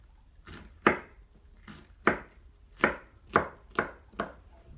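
A knife chops through cabbage on a board in seven sharp, evenly spaced cuts, each with a soft lead-in and a crisp thud, close and alone with no talk.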